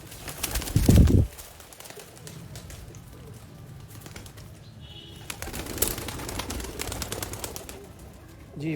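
Sialkoti pigeons coo in the background, with a loud handling bump at the start and scattered rustling and clicks after it.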